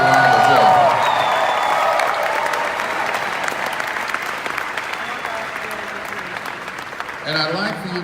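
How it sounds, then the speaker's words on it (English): Audience applause at a motivational speaking event, a loud, dense crowd clapping that starts with voices and whoops over it, then carries on steadily and fades a little before a speaking voice returns near the end. "Give yourself a round of applause."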